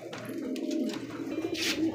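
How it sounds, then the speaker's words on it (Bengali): Soft, low cooing of a female Lotan pigeon repeats in a throaty rolling rhythm, close by, with faint background noise. "একটা সিঙ্গেল একটা লোটনের মাদি কবুতর"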